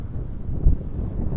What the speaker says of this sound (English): it's getting quite windy now, so apologies if it's a little bit blowy